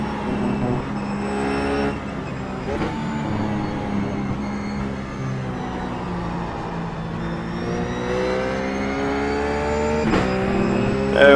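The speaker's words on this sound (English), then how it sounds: "I'd rather just let it rev up a little bit more." Ruf GT3 race car engine in the iRacing simulator, revving steadily with rising and falling pitch across the whole stretch, loud and continuous with no talk.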